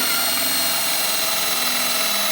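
A power drill boring holes in a plastic chicken feeder, heard as a steady, loud, high whirring drone that runs without a break throughout.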